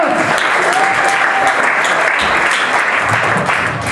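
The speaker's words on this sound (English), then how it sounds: "let's give a big round of applause for Jeff Judd" A comedy club audience at Crackers Comedy Club gives Jeff Judd a dense round of applause. The clapping is loud and close, with a few faint shouts, and it holds steadily for several seconds.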